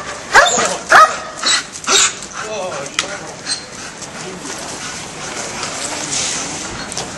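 Military working dog, an explosive or narcotics patrol attack dog in Afghanistan, barks in several sharp, loud bursts early on, then quieter yips and whimpers fade under steady background noise and faint voices.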